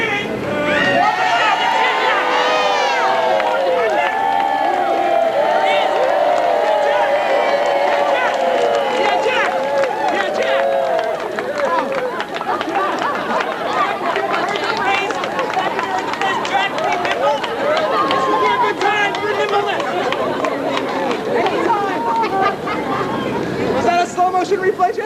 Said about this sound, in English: comes sprinting into the stadium with enormous yelling and screaming of the crowd